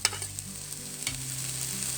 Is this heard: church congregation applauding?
no